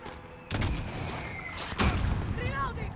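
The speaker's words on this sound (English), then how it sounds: "that's a mortar" Mortar fire in Call of Duty: Modern Warfare, two loud booming blasts about a second apart, with a rumbling tail, overlapping talk and faint whistling near the end.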